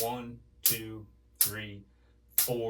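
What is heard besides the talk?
None of the usual background noises is heard.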